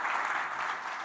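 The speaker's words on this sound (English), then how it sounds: "Your biggest round of applause for a speaker who has just walked up." A conference audience claps for a speaker walking up to the stage, a brief, steady burst of many hands applauding together at constant level, with no talking over it.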